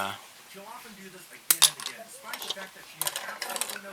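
Nippers snip a plastic model kit part off its sprue for an R-Type Final R-9A Arrowhead build, a couple of crisp, close clicks with light plastic handling rattles around them.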